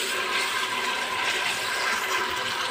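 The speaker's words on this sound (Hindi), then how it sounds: "अब इसमें मैं डाल रही हूँ बीफ" Beef hits a hot pan of ginger garlic paste over high flame, giving a steady, loud, hissing sizzle that holds evenly throughout.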